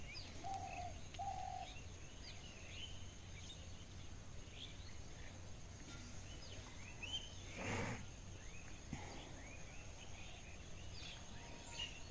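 Various birds chirp and call faintly in open air beside village rice fields, with a dove cooing softly and scattered tweets over quiet outdoor ambience.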